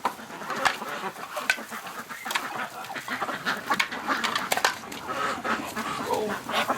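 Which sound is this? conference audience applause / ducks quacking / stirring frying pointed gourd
ducks quacking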